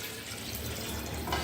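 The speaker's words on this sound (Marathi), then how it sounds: "आता याला आपण असं हे थोडंसं बाजूला सरकून हे पाणी याच्यामध्ये असं ओतून टाकायचं" Hot water is poured into a pot of chicken curry, a short, continuous splashing pour heard up close and fairly soft, with no talking over it.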